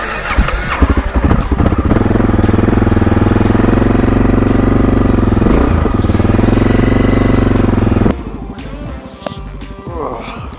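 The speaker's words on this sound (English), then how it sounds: "Should probably get this bike started" A dual sport motorcycle engine fires up and runs loud and near with a steady rumbling idle, then drops to a rougher, quieter note as it stumbles near the end.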